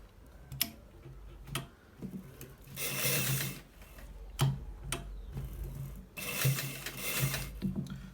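A sewing machine stitches a collar shirt in two bursts of fast, steady running. Sharp, isolated ticks and clicks fall in the quiet gaps between the bursts.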